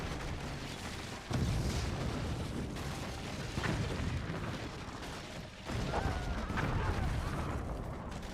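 Booming explosions from the artillery strategy game Forts, with flying battleships exchanging fire; loud, dense blasts rolling one after another over a rumbling battle bed, with heavy hits near 1.3, 3.6 and 5.7 seconds.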